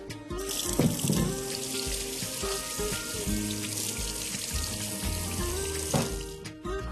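Beetroots washed under a running kitchen tap, a steady loud gush of water splashing into a sink with occasional clunks and knocks from handling, close by and without speech.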